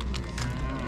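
A cow moos loudly and close by at a livestock market, a continuous low bellow filling the whole moment with no talking.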